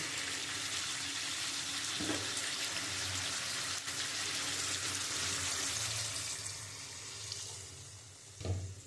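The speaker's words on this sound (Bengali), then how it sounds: "এবার আমি জল দিয়ে দেবো, যেহেতু আমি পটল আলুটা ভালো করে কষিয়ে নিয়েছি।" Water hits a hot pan of fried potatoes and pointed gourd, setting off a steady broadband hiss and sizzle with a few soft clunks. The sizzle fades a little toward the end, and no one talks.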